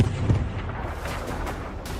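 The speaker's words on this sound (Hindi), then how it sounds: "लेबनान की ओर से हिजबुल्लाह आतंकियों ने एक बार फिर इजराइल पर रॉकेट से हमला कर दिया" Hezbollah rockets strike Israel from Lebanon, a loud, continuous rumble of rocket fire and explosions with a dense, booming wash that holds steady and has no pauses.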